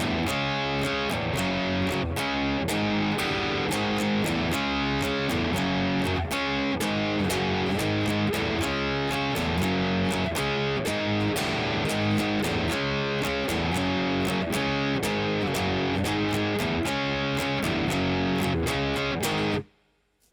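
Distorted electric guitar plays the driving, repeating outro riff of a song with steady drum hits underneath, loud and continuous until it stops abruptly at the end.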